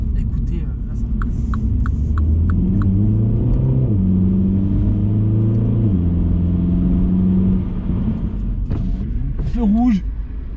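A 192 hp Mini Cooper S exhaust rumbles steadily while driving in the rain, with rising and falling engine pitch and a short rev at the end, and someone speaks over it.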